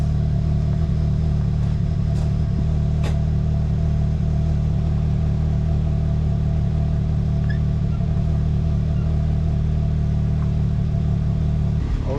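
A Can-Am X3 off-road vehicle engine idles steadily and loud up close in a workshop, a constant low rumble with faint clatter throughout and no talk.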